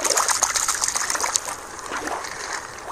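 A toy squid is dropped back into water during play with sea animal toys, giving a close, continuous splashing and trickling that runs steadily and eases slightly toward the end, with no talking.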